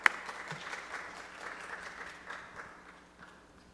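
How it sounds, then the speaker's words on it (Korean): A church congregation claps during a Sunday service, a soft, fairly distant patter of hands that fades gradually after a sharp opening knock. "저희 다시 한번 박수로 축복하겠습니다."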